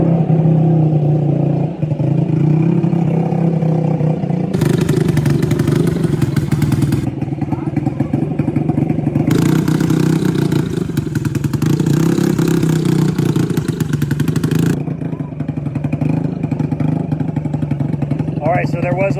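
Four-stroke ATV engines roar loudly at a desert nationals race, with surging revs and repeated bursts of acceleration as machines pass close by, thuds and clatter mixed in, and a voice talking over the racing.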